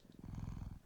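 A cat purrs up close in a steady, rumbling pulse with rapid regular beats, soft and continuous with no voices.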